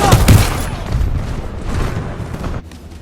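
Quasar cannon firing in the video game Helldivers 2, a loud close blast with a roaring, rumbling tail of explosive noise lasting a couple of seconds before cutting off abruptly.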